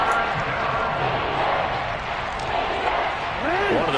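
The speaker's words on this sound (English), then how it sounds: "the crowd getting into it as we come up on a big third down" Crowd roar from a Madden football video game stadium, a steady dense swell of cheering building toward a big third down, loud and continuous with commentary talking over it.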